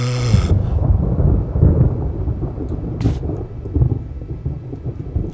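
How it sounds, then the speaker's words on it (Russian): Thunder from a video game plays through gaming headphones, a loud rolling rumble with a sharp crack at the start, steady rain hissing underneath and another burst midway. "Тут гром сейчас на улице, он здесь слышен, опять же, вот будто бы за окном у меня."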